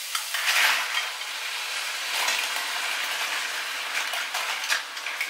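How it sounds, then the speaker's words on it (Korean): Mussels stir-fried in a pan with onion and garlic in olive oil give a steady, close sizzle with bursts of stirring and scraping, no voices. "홍합과 같이 볶아주는 거예요."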